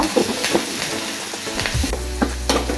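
A ginger, garlic and chilli paste fries in hot oil with red chilli, bay leaf, asafoetida and curry leaves for Gujarati kadhi. It makes a steady, close sizzle broken by occasional stirring scrapes, with no voices.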